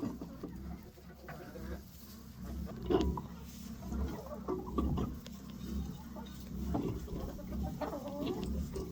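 Hens clucking and murmuring close by inside a barn in a steady, busy chorus, with scattered rustling and movement noises throughout.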